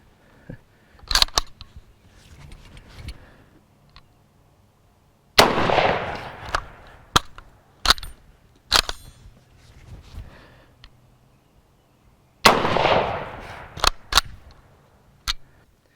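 M91 Moschetto Carcano cavalry carbine, a rough example with striker and extraction faults, fires several loud sharp shots, two of them followed by long ringing decays, with spaced single cracks between, outdoors and without talk.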